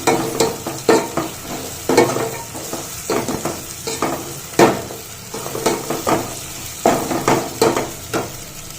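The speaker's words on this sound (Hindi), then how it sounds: "एबे मु एथिरे काजू सब पकई दूची ताकि काजू ये हल्का फ्राए हो" Cashews fry in a pan with a continuous sizzle, broken by repeated scraping and stirring strokes of a utensil against the pan at an irregular rhythm, close up, with no talking.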